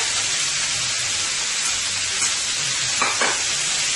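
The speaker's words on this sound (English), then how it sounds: "Into the same pan, guys, I am going to be adding some onion, garlic, right here" Onion and garlic sizzle in a pan still hot from searing ribeye steak. The frying hiss runs loud and constant, with a couple of faint stirring sounds and no talking.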